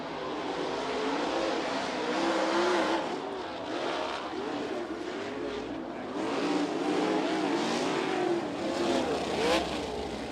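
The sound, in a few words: USAC sprint cars behind Toyota pace truck at Ocala Speedway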